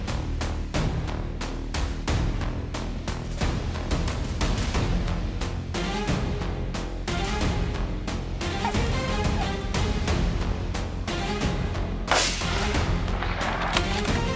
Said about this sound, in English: I fired a burst directly at the charging giant, dropping it mere yards away.